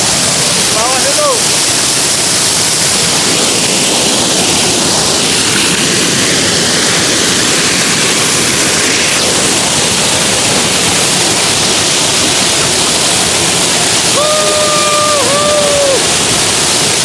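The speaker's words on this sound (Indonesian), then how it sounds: "Coba saya akan lebih mendekat di air terjunnya ya." The waterfall at Sekar Langit roars as a dense, loud, continuous rush of falling water close by, with a few faint whistling bird calls over it.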